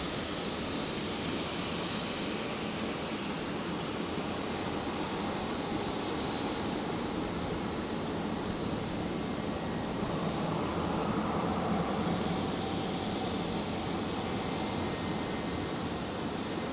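A Jetstar airliner landing on runway 19 left at Brisbane International Airport at night, heard as a steady, loud, broad engine roar that holds evenly throughout with no voices.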